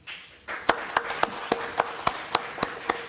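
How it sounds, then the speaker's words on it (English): A small audience at a meeting gives sparse applause: a brief murmur, then roughly a dozen distinct, sharp hand claps spaced irregularly, close and clear over a low room background. "How about a round of applause for them,"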